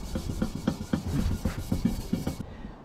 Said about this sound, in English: Grey Scotch-Brite with some Zephyr on there.